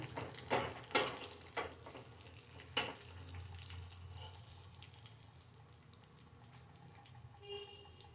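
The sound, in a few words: frying until golden colour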